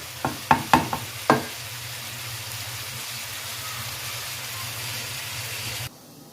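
A mutton and cauliflower curry gets stirred in a pan with a few sharp clanks of the spoon against the metal at the start, then a steady soft sizzle of cooking that cuts off near the end.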